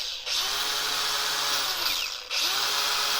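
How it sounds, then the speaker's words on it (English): A wire wheel on a Milwaukee cordless drill strips paint and a sticker down to bare metal on a Jeep WJ part, a loud close high-pitched whir in two long bursts with a brief dip between them. "we got this wire wheel here on the Milwaukee"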